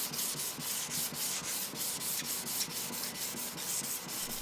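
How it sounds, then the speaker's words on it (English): Sandpaper rubs back and forth along a strip of walnut meant for a psalmodikon fingerboard, making close, rhythmic rasping strokes at roughly four or five per second with no voices. "I'll give it a good dose of sanding."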